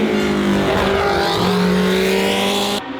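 A 1960s Formula 1 race car at Spa screams past at full throttle, loud and close, its high engine note sustained for several seconds before cutting off abruptly.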